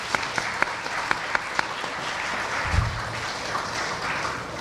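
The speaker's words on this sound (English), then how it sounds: "A big round of applause for Ravishankar ji." Audience applause fills a Bharatanatyam arangetram hall in honour of a performing musician, a steady wash of many hands clapping at moderate level, with a few sharper claps standing out early on.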